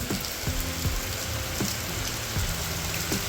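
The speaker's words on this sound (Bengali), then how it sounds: "জোর কদমে বৃষ্টি পড়ছে" Heavy rain falling at night in Purulia, a dense continuous hiss of rain on surfaces with some low intermittent tones beneath, loud and close, no talk.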